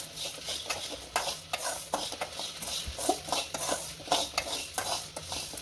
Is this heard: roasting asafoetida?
yes